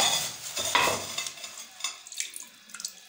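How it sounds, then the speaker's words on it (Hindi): Clay plates soaking in a bucket of water give off a soft, crackling fizz with scattered small pops and bubbling, close up and fading over a few seconds. "ये इसने पानी जज्ब करना शुरू कर दिया है, ये आवाज़ भी आ रही है थोड़ी थोड़ी इसकी"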